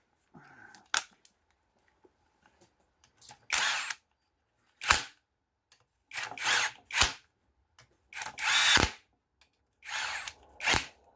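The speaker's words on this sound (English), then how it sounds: "Waar is die impactor? Ja, hier." Impact wrench driving bolts into a Peugeot rear-wheel-drive differential during assembly: several loud, sharp rattling bursts of one to two seconds each, separated by short pauses, close up in a quiet workshop.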